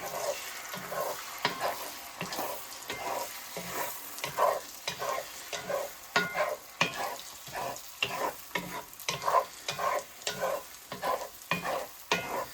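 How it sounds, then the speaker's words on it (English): Scrambled eggs sizzling in a cast iron pan while being stirred, with rhythmic scraping strokes over a steady frying hiss, close and continuous. "gonna get that egg right in there. All right, it's gonna start hardening up right away, so you wanna begin moving it"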